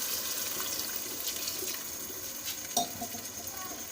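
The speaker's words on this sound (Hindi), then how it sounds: "अब हम इसमें 1 गिलास पानी डाल देंगे" A glass of water poured into spiced potatoes frying in a pan sets off a loud, continuous hissing and bubbling rush, close and without voices.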